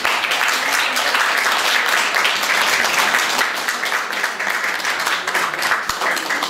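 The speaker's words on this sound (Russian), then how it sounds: "мы можем поаплодировать им за эту прекрасную" Steady applause from a sizeable concert audience, dense and continuous clapping that holds at an even level throughout, with no voices over it.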